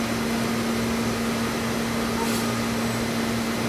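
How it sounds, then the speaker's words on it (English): A Studer S33CNC universal cylindrical grinder runs a plunge grinding operation at IMTS 2010, producing a steady, loud whirring hum with a constant machine tone and no breaks. "This is a phase plunge grind operation."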